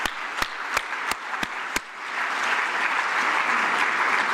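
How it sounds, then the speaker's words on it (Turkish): Audience applause in a live Turkish emergency-medicine broadcast: a few sharp separate claps at first, then swelling into steady, sustained clapping from a crowd that holds to the end. "Asıl alkışları bu çılgın kitleye yapıyoruz arkadaşlar."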